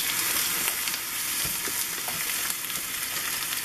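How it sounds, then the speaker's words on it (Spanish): Guajillo chiles, tomato and onion frying in a pan for mole, a steady close hiss of sizzling oil with small crackles and pops throughout, no voices. "Lo metes así a dorar. Y vas a poner el tomate."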